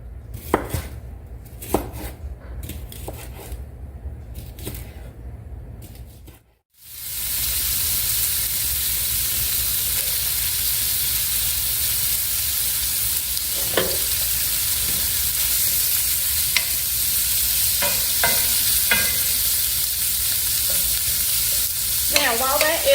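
Smoked sausage frying in a skillet, a few knife chops on a board first, then a steady loud sizzle after the sausage hits the pan, with occasional stirring scrapes and pops over the constant hiss.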